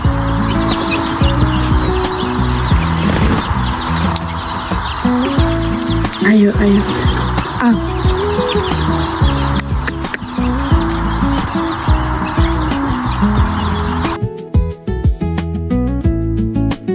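Hens and chicks cluck and peep inside a poultry farm in Birendranagar, Surkhet, a dense, continuous flock chorus close by while people talk over it.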